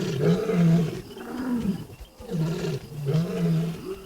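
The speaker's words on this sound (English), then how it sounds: "Work by the Serengeti Lion Project showed that as a pride roars, other lions hearing it can count how many lions are calling." Lions roar in a repeated series of deep, rhythmic grunting calls, close and loud, with several pulses rising and falling across the stretch and no voices over them.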